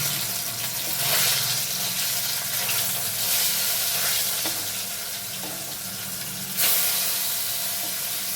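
Pieces of chital fish fry in hot mustard oil with a steady, loud sizzle and hiss, swelling at times and flaring up sharply near the end as the oil crackles on.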